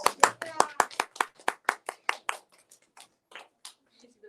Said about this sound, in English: Let's all give her a round of applause.